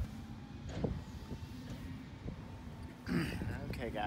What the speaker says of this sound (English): Sorry about the background noise. We've got some trucks doing some stuff.